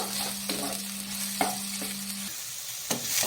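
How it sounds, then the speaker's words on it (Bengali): Ash gourd pieces fry in ghee in a pan, a continuous crackling sizzle broken by a few sharp scrapes and knocks of stirring, with a low steady hum underneath. "চাল কুমড়োটা দিয়ে ভালো করে নাড়াচাড়া করে নেব"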